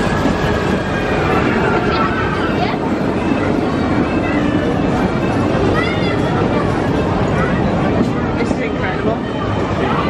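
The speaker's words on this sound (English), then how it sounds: "How impressive is that train?" Theme-park train on the Pacific Railway at PortAventura in Salou, Spain, a steady loud rumble and rattle of the moving carriages running continuously throughout, with people talking over it.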